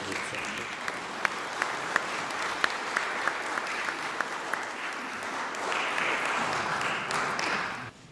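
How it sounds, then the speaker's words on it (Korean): An audience at a poetry reading applauds steadily for several seconds, a dense wash of clapping with a few crisp individual claps standing out, swelling slightly before stopping abruptly. "박수 한번 주십시오."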